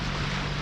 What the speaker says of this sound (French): On est au moteur, la mer est super plate.